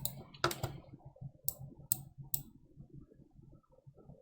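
Sharp, close clicks from a computer mouse come a few at a time at irregular intervals over faint low background noise.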